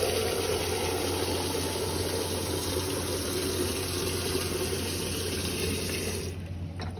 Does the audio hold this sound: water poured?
yes